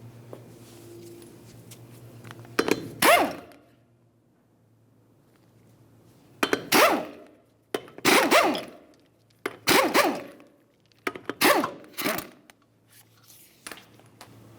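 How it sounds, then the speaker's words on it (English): Several short, sharp bursts of a tool loosening 19mm lug nuts on a 2010-2013 Ford Transit Connect wheel, close by, separated by quiet gaps, with no talking. "remove each of your 19mm lug nuts"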